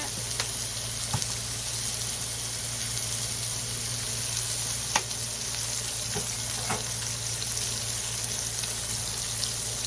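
Pork sizzles steadily in a pan with a little cooking oil, a dense, continuous frying hiss with scattered small pops and crackles throughout, close up and without talk.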